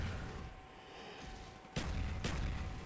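Two heavy gunshots boom in Call of Duty: Black Ops over a steady background hum, spaced about half a second apart.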